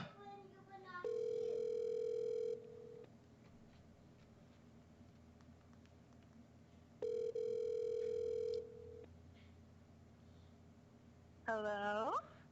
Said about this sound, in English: Hold on, it's ringing.